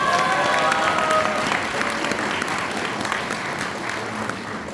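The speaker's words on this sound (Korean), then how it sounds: "큰 박수 부탁드리겠습니다" An audience at a book launch event in Daegu claps steadily, with dense sustained applause from a crowd that slowly fades near the end.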